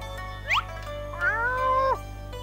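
A cat meows in the Pink Panther video game: a short rising mew followed by a longer, drawn-out meow, clear and close over a steady low background hum.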